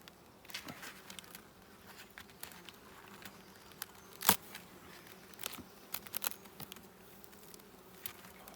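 Honeybees buzzing around an open wooden hive during an inspection, a faint wavering hum with scattered taps and knocks from handling the frames, nearby and outdoors.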